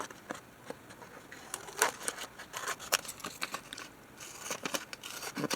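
Scissors snipping off the bottom of a small paper bag, a series of quiet close crisp cuts mixed with paper crinkling, irregular in rhythm and fairly faint.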